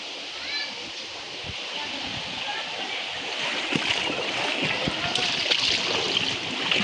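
Water flowing along a village canal, a steady rushing and splashing that stays close and fairly loud, with voices heard faintly in the background.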